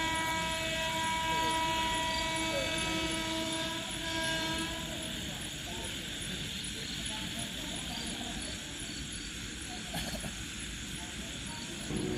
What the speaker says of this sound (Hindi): देखु गोटे ट्रेन आसूची